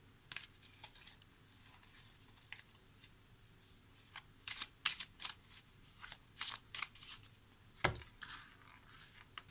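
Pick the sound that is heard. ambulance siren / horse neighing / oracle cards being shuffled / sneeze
oracle cards being shuffled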